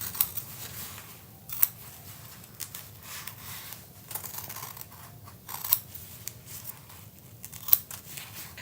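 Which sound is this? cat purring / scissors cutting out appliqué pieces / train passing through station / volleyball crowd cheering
scissors cutting out appliqué pieces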